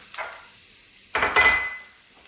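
Minced garlic from a whole head fries in oil left over from cooking onions, giving short bursts of sizzling with light pan clatter, fairly close and with no voices.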